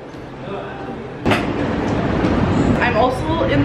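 Airport terminal train riding: steady rumbling interior noise of a moving people-mover car, rising slightly after a clunk, continuous and close throughout.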